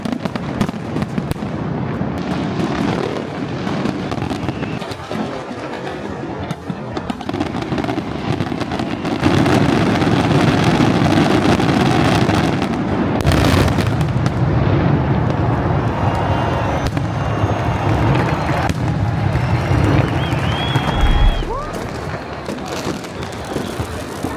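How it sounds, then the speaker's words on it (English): A large evening fireworks display at the Fallas festival in Valencia, launched near the Monte Olivet Bridge, fills the air with dense, continuous crackling and booming bursts for the whole stretch, loud and steady, with faint crowd voices mixed underneath. "a really big firework display of about 20 minutes will be launched every evening at the Monte Olivet Bridge"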